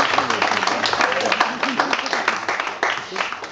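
Applause rises from the audience at an aquabike championship award ceremony in Nova Kakhovka, Ukraine, steady dense clapping carrying on for several seconds with voices mixed in.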